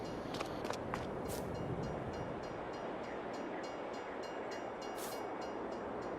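Railroad crossing bells ring in a Farming Simulator 22 level crossing scene, faint repeating dings over a steady, loud rumbling wash of rail ambience, with no train passing.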